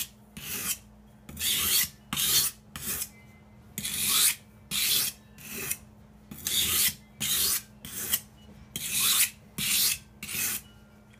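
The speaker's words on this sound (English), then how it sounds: "So now we're just sanding it down to a fine polish" A knife blade polished on a fine sharpening stone: close, even rasping passes, roughly a dozen strokes at a steady back-and-forth pace with short gaps, no voices.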